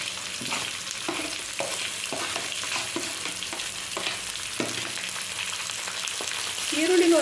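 Sliced onions fry in hot oil for upma, a steady bright sizzle with repeated scraping stirs of a spatula throughout, close and fairly loud, swelling slightly toward the end.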